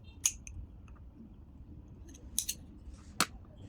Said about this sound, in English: take your scissors and snip off your yarn